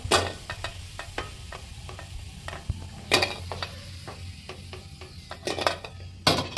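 Potatoes fry in oil in a pan with a soft continuous sizzle, broken by repeated sharp clacks and scrapes of a utensil against the pan at irregular intervals.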